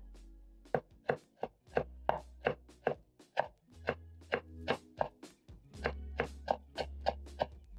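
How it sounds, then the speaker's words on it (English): A knife chops coriander on a chopping board in a steady run of about fifteen crisp, close thuds, evenly spaced with short quiet gaps between strikes. "While my cabbage is cooking, I'm going to slice up my coriander."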